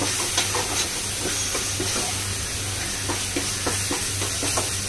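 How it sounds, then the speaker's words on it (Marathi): Chole spice masala sizzles in hot oil while being stirred, a continuous close frying hiss with a soft low hum and small scraping ticks from the stirring. "हे सगळा मसाला मिक्स करते."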